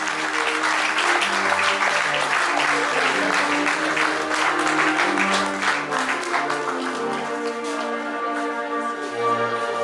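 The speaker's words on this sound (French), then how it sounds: "Sous vos acclamations," An audience at a book launch gives sustained applause, a loud, thick clatter of many hands that continues throughout and eases slightly toward the end, with some musical tones sounding faintly underneath.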